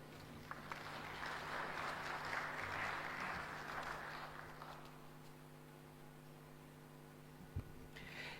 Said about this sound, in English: Can we please extend another round of applause